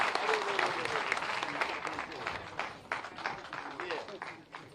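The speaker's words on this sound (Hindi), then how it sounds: "जोरदार तालियों के साथ स्वागत" A crowd at a public event applauds to welcome the chief minister in Aligarh, with clapping rising and fading over a few seconds while voices and an announcer talk through it.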